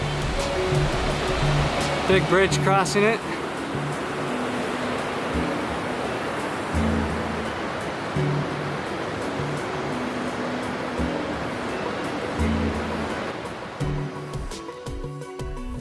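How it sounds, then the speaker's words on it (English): Steady broadband rush of the Middle Fork of the Feather River flowing beneath a big bridge along the Pacific Crest Trail, loud and continuous throughout, with someone speaking briefly over it near the start. "The middle fork of the Feather River."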